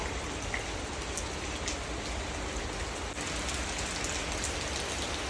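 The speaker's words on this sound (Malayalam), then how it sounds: "മഴ പെയ്യുന്നുണ്ട്" Steady rain falls on surfaces, a dense, even hiss of drops continuing without pause at moderate level, with no voices.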